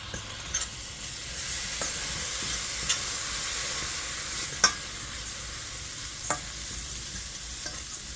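Garlic sizzling in a hot pan, a steady bright frying hiss running throughout with a few sharp clicks and pops from stirring, close and fairly loud with no voices.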